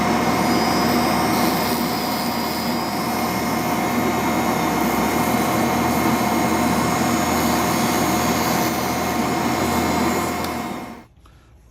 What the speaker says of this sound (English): Just going to use the Dremel.